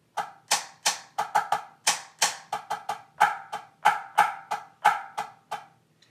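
A longer snare drum check pattern, a steady stream of crisp close strokes mixing quick doubled notes and louder accented hits, played solo with short ringing decays.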